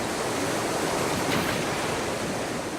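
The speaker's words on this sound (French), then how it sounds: "les eaux tumultueuses de l'Eisbar offrent même des vagues d'entraînement aux surfeurs." Rushing river water of the Eisbach surfing wave in a park, a steady, loud broadband roar of churning current that holds constant throughout with no voices.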